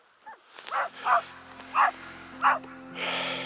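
Husky sled dogs in a team on the Northern Ural trail give a few sharp barks and yips, spaced about half a second apart, moderately close, over a steady low hum.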